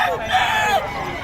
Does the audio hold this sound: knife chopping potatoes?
no